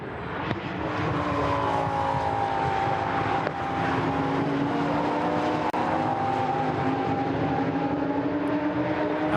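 Lamborghini Super Trofeo race cars at Silverstone circuit sweep past, their engines a loud, continuous whine with pitch slowly falling as they pull away, a busy rush of several cars with no voice heard.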